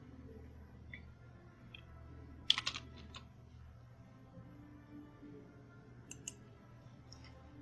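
Light typing on a computer keyboard while an email ID is entered into an online form, with a quick cluster of key clicks and a few scattered taps, faint against a low steady background hum.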